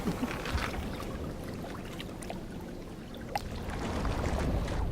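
Canoe paddling on open water, a steady wash of water and splashy paddle strokes close by, continuous and moderately loud with no voices.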